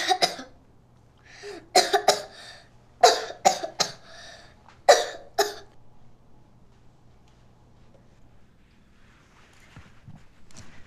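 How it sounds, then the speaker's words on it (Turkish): Someone coughs about five times in clusters of two or three harsh bursts, close by, then the room goes quiet. "Bir de öksür."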